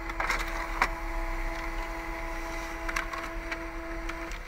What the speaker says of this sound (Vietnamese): Bây giờ nó sẽ in lên khổ A4